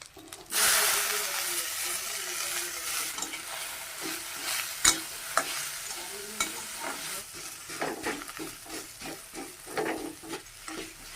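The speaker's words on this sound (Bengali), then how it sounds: "পেঁয়াজটা ভাজা হয়ে গেছে আমি কচু মাছ দিয়ে দেবো" Onions frying in a pan with taro and fish, stirred with a spatula: a steady close sizzle runs throughout, broken by sharp scraping and clinking strokes that come more often toward the end.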